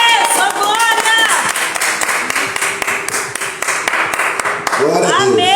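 Church congregation applauding during a worship service, dense rapid clapping from many hands under loud voices shouting praise, energetic and continuous.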